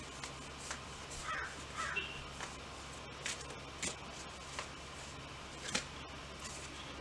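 Several crows caw outside at a distance, scattered harsh calls spread across a quiet ambient backdrop with no talking.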